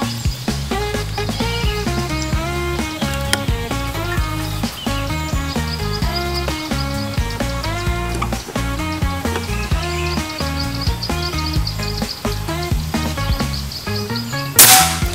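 A Bocap Preda PCP air rifle in single-shot mode fires once, a single sharp snap at the very end, after a long stretch of continuous background music.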